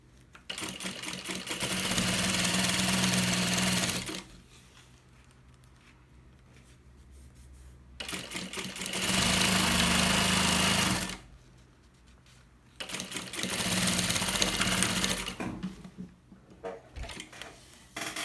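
Sewing machine stitching bias binding onto a baby bag, running in three steady bursts of rapid mechanical whirring separated by short quiet pauses, close and alone.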